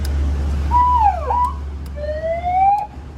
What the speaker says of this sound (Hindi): इसमें सायरन भी है